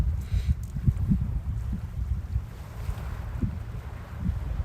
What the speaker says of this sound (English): I can see the same boat heading out on both streams.